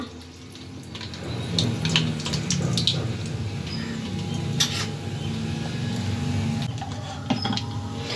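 Mustard seeds crackle and sizzle in about fifty millilitres of hot oil at the start of a raw mango thokku, a steady frying hiss studded with scattered sharp pops, close and continuous with no talking.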